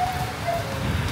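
Heavy rain pours steadily through an outdoor wedding coverage scene, a dense continuous wash of drops close by with faint tonal sounds over it.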